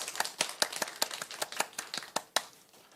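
Churchgoers clapping in a Sunday morning service, a run of about a dozen sharp, evenly spaced claps at moderate volume with no talk.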